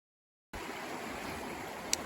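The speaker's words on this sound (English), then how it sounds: "it's at the confluence of a brook that runs down from the hills and joins up with Morong Creek" A brook running down from the hills where it joins Morong Creek in Australia: steady, close rushing and trickling water that starts abruptly after a short silence and flows on evenly.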